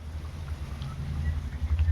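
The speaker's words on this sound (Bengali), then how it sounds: "এই যে বন্ধুরা, প্রচণ্ড হাওয়া হচ্ছে" Strong stormy wind gusts steadily during a rainy spell, a continuous low rumbling roar that swells louder toward the end with no talking over it.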